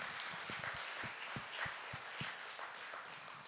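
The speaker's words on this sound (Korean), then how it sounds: "하나님께 영광에 우리 박수도 한번 더 하십시다" A church congregation at an Easter dawn service applauds, a soft, somewhat distant patter of clapping with a few sharper individual claps standing out.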